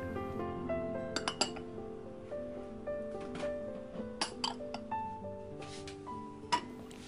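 Small red-painted ceramic chawanmushi bowls clink and knock together in a run of sharp, bright taps, some ringing briefly, close up and with no talking.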